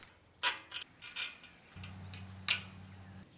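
Metal clanks and ratcheting clicks from bolting down the collector stack of a backyard smoker, with a few sharp knocks followed by a steady low mechanical hum, close by and moderately quiet.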